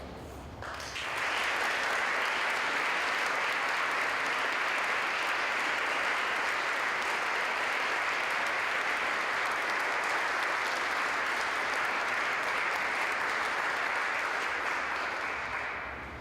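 An audience at a Phalanx tapping ceremony breaks into sustained applause, a dense, loud, even roar of clapping that starts abruptly and holds steady for about fifteen seconds.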